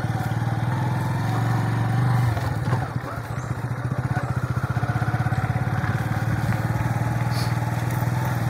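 A motorcycle carries riders along a road in Palawan near Bokbok beach. Its close, loud engine drones with a rattling clatter, dips briefly, then settles into a fast, even pulsing rhythm.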